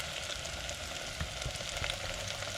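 Battered fish frying in hot oil, a steady, dense sizzle with faint crackles and pops that holds at an even level throughout.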